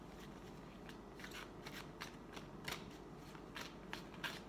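Soft, rapid riffling and flicking of tarot cards being shuffled, close and quiet, repeating in short bursts against faint background hiss.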